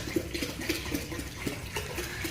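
Water pours steadily into a JBJ 65-gallon reef aquarium tank, a soft continuous splashing trickle with small bubbly gurgles, close and moderately quiet, with no talking.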